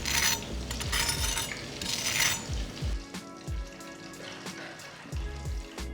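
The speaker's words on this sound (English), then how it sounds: "Start frying the chickens." Crackling, popping sizzle of chicken frying in hot oil, loud and dense at first, then settling into softer scattered pops and spatters.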